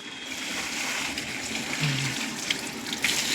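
Water gushes and splashes steadily, like a bucket being emptied onto a floor, a continuous rushing pour close by with no voices.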